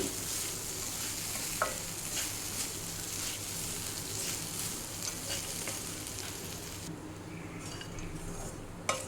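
Oats with salt sizzle and fry steadily in a pan, with the scrape of stirring and a few clinks of a spoon against metal, a continuous close hiss that drops sharply near the end.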